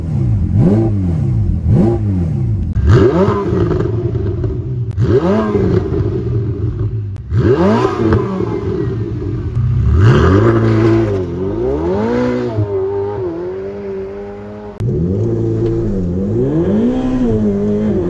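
A hot Ferrari 488 Pista in race mode revs hard again and again, each rising and falling engine sweep loud and close, with a raspy, layered exhaust note and no talking.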